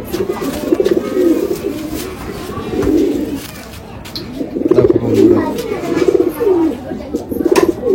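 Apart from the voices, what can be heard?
desi pigeons cooing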